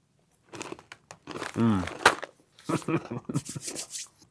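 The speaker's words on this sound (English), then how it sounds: "the texture and the crunch of this potato is spot on" Sour cream and onion potato sticks from a German snack box crunch in close bites between stretches of a person talking, sharp crackly chewing mixed with speech.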